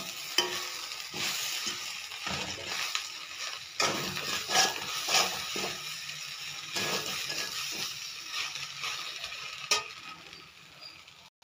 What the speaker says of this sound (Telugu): కొత్తిమీర వేసేసి ఫ్రై చేసుకొని స్టవ్ ఆఫ్ చేసుకోవాలి.